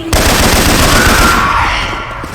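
Rapid automatic gunfire from a weapon with Syphon Filter sound effects in Left 4 Dead 2, a loud sustained burst of shots that fades slightly toward the end.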